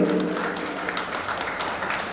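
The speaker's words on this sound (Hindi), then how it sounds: "जरा हाथ उठाइए, तालियां मत रोकिए" Audience applause at a Jan Ramayan inauguration and release event, a steady wash of many hands clapping at moderate volume for about two seconds, with no clear voice over it.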